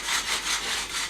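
Rhythmic scraping, several quick back-and-forth strokes of a hard edge rubbing a surface, close and fairly loud.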